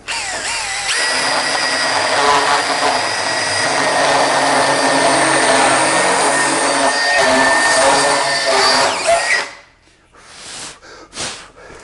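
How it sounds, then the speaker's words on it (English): A carbide burr in a power tool grinds out a knot in wood, a loud, sustained high-pitched whine with gritty cutting noise that stops abruptly, followed by a few short bursts. "But I'm going to use the carbide burr just to show how that works."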